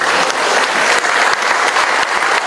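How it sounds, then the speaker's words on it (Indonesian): Warm applause for Indonesian Red Cross (PMI) officials at a ceremony, a loud, continuous clatter of many hands from a large crowd, steady from start to finish. "kita beri tepuk tangan untuk para pengurus PMI"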